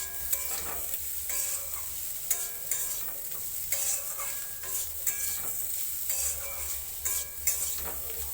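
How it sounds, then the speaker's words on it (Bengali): Salt and turmeric being stirred into a sizzling frying pan while cooking a prawn and ash gourd curry, with steady close scraping and stirring strokes over a continuous frying hiss, no voices. "নুন, হলুদ ভালো করে মিশিয়ে নিচ্ছি।"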